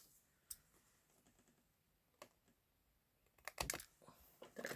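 Scissors snip through paper during a card-making craft: a few sharp, close, quiet clicks spaced apart, with a quicker cluster near the end, over a hushed room.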